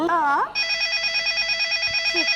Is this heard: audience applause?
no